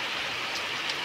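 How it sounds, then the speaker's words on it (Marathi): Rain falls in a Konkan village, swelling from drizzle into a heavier shower, a continuous close, bright hiss with no pauses. "आता मगाशी पाऊस चालू झालाय."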